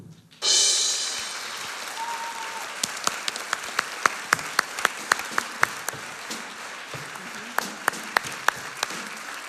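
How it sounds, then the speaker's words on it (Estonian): A school crowd bursts into applause for a student, a sudden loud onset of dense clapping that gradually thins into scattered, distinct individual claps over several seconds. "Aplaus Mari-Liisile jätkub."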